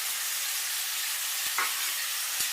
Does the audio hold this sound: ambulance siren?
no